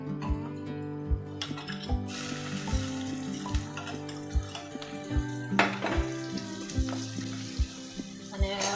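Tomatoes and chopped garlic fry in hot oil for dal palak, a soft steady sizzle broken by repeated sharp clinks and taps of a utensil against the pan, close up with no talking.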